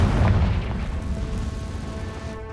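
A Confringo fire-blast spell explodes in the Hogwarts Legacy video game, one loud booming blast that rolls into a sustained rumbling roar and then slowly fades.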